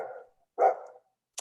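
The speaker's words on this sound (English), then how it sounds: "That's the dog." A dog barks a couple of times at a distance during a seminar, two soft muffled woofs a half-second apart, followed by a faint high yip.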